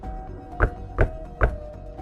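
Three loud, evenly spaced knocks on a wooden door, a firm thud each, sounding alone over a faint background hum.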